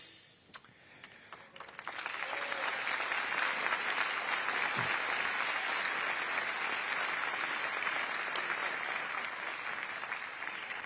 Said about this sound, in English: When I pause, it's because they're clapping and chanting Libertad.